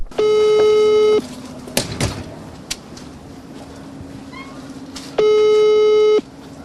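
A telephone busy signal from an unanswered call: two long, loud electronic tones separated by a few seconds of quieter background with brief clicks.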